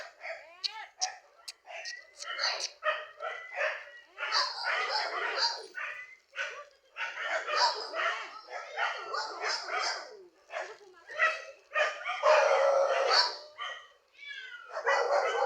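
A pet dog barks and yips in repeated high-pitched bursts, fairly near, mixed with excited human voices calling out over the barking.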